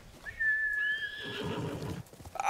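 A horse in the video game Ghost of Tsushima gives a loud, high whinny that trails off, followed by a rougher, lower snorting whinny and a few hoof clops at the end.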